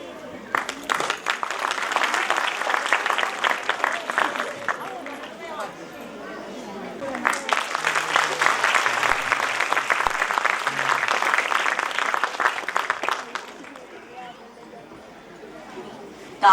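An audience at a school's annual function claps for the chief guest in two strong bursts of dense applause separated by a brief lull, with a voice speaking over the clapping and the sound fading at the end.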